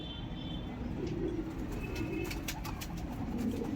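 Pigeons coo softly and repeatedly at close range in a loft kept by a pigeon fancier, with faint chirps and a steady low background hum underneath.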